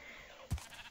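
A sheep in Minecraft gives a single short, low bleat midway through, fairly faint over a quiet background hiss.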